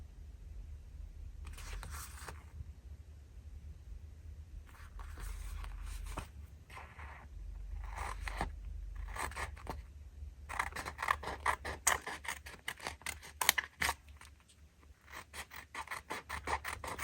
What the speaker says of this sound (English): I'll just cut off this part up here.